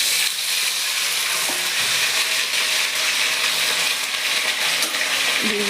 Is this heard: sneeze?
no